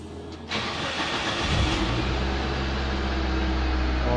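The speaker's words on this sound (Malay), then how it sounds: "tengok cold start cantik lah" A Proton Waja MMC with the 1.6-litre 4G18 engine starts from cold in neutral, cranking briefly before catching and settling into a loud, steady idle that fills the rest of the clip.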